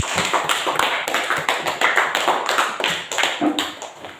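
A group of people in a classroom claps hands together, a brisk, dense burst of overlapping claps that continues evenly for a few seconds, close and loud.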